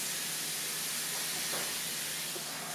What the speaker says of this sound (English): There's a lot of steam coming out from the back